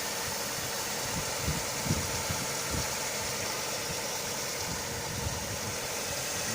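A Mitsubishi Lancer 9 with the 1.6 engine idling just after a cold start, a steady low hum with faint rhythmic ticking, recorded close and quiet, with no voices.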